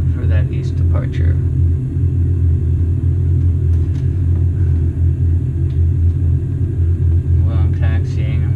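Light aircraft engine idling while taxiing in a flight simulator game, a steady low droning rumble throughout, with someone talking over it.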